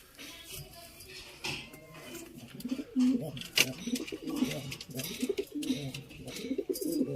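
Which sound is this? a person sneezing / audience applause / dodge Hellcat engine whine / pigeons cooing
pigeons cooing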